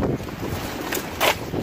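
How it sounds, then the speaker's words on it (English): Gusty wind by an Aldi dumpster buffets the microphone in low, rough rumbles, with a brief stronger blast near the end. "It's so windy out here."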